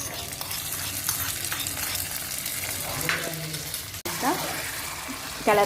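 A ghee tempering is poured over sambar rice (bisibelebath) and stirred in, producing a steady sizzle with scraping and mixing noises throughout and a voice speaking faintly beneath.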